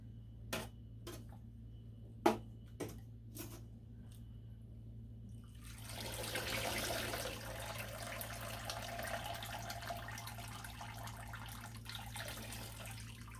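Washed Wensleydale and Gotland wool locks rinsed in water: a few sharp clinks of handling first, then a steady splashing, running-water wash that continues to the end, fairly quiet and close.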